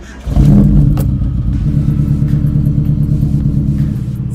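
A Nissan D21 pickup engine, just fitted with a serviced starter motor, catches and settles into a loud, close, steady idle rumble with a rhythmic pulse, after a brief moment of quiet.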